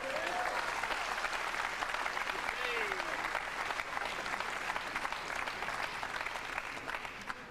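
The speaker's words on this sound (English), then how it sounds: "Crowd here in Cardiff giving Steve Davis every form of encouragement" A Cardiff crowd at the 2000 World 9-ball Championship pool match between Efren Reyes and Steve Davis applauds Steve Davis steadily and loudly for the whole stretch, a dense continuous patter of clapping with a voice over it.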